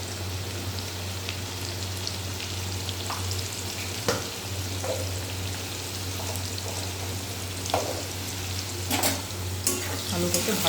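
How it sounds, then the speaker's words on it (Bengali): Potato pieces with a little salt and turmeric frying in a pan, a continuous dense sizzle with a low steady hum beneath and occasional sharp spatula taps and stirs. "আলুটাকে ভাজা করে নেব।"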